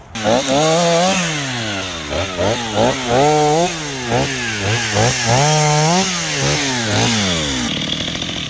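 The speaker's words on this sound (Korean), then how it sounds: "이 걸리는 나무, 간섭되는 나무를 먼저 정리해주고 잘라주는 게 좋습니다" A Husqvarna chainsaw cuts through trees near landscaping trees, its engine loud and close, surging and dropping in repeated rev cycles throughout with no speech.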